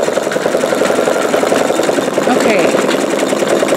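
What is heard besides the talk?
sewing machine stitching out a bumblebee quilt block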